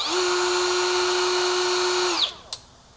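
Brushless rotary grinder spinning at speed setting four, a steady high-pitched whine for about two seconds before winding down abruptly, followed by a sharp click.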